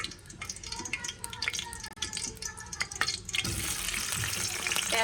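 Shrimp cooking in a home kitchen pan, a steady sizzle and frying hiss with scattered stirring clicks and drips, growing denser and louder toward the end; faint talk in the background.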